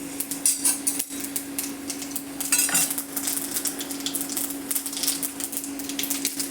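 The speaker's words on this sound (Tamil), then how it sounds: "கடுகு பருப்பு பொரியுது பாருங்கள்." Mustard seeds and urad dal splutter in hot oil in a home kitchen pan, a steady faint crackle punctuated by sharp pops and light metallic clinks of a utensil against the pan.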